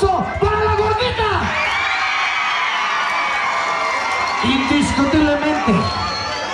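Loud crowd cheering and whooping at a jaripeo rodeo, a sustained roar of shouts and applause, with an amplified announcer's voice speaking over it at the start and again near the end.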